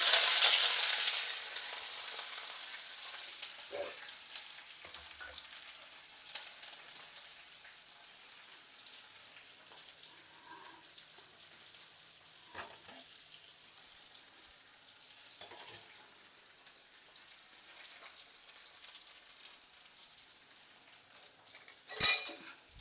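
Garlic, green chilli, curry leaves and onions fry in oil for a crab masala, giving a bright sizzle that is strong at first and then fades to a faint hiss, with a few clinks near the end.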